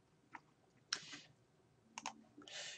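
Sharp clicks of a computer mouse pressing a button on a journal database search page, a few scattered quiet snaps with short pauses between, close and alone.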